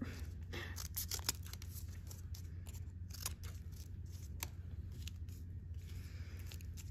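Steady snipping of scissors cutting paper, crisp repeated clicks over a constant low hum.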